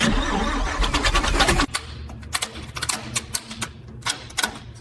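A P-47 Thunderbolt fighter aircraft engine whirs through a starter crank, then catches and runs with rapid irregular popping and clattering, loud and close.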